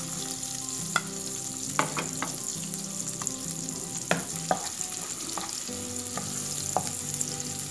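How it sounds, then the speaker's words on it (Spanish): Chopped onion and garlic frying in a mix of butter and oil, a steady broad sizzle running throughout with occasional sharp clicks and scrapes of a utensil, fairly quiet and with no voices. "Y freímos la cebolla y el ajo picado."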